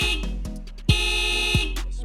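A rebuilt car's alarm sounds as a loud, steady high-pitched electronic tone, broken by sharp clicks and thumps.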